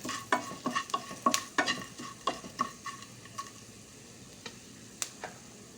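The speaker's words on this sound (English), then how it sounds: "And coriander seeds and roast it." Dry coriander seeds roasting in a pan for a spicy chicken dish, sharp spoon clicks and scrapes in a quick, irregular rhythm over a faint sizzle, close and fairly loud, then thinning to a few sporadic knocks.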